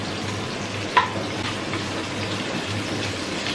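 Onions and potatoes frying together in a pan, a steady close sizzle and crackle with a brief clink of a utensil near the start.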